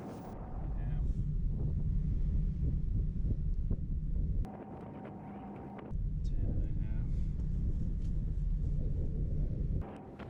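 Strong wind buffets a boat creeping slowly into an inlet past a jetty, making a steady low rushing roar with gusty swells that drop out briefly and return. A voice talks over it.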